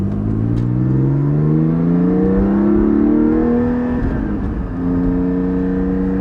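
A Porsche 718 GT4 with the factory rear exhaust section and its particulate filters removed accelerates hard, its engine note climbing loud and close through the gears with a brief dip at a shift, then pulling on again.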